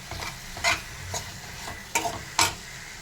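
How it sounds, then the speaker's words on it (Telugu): Peanuts frying in oil in a pan, with a soft, constant sizzle broken by several sharp scraping stirs at irregular moments. "మళ్ళీ కొంచెం ఆయిల్ వేసి పల్లీలు వేసాం. పల్లీలు ఫ్రై చేసుకున్నాం."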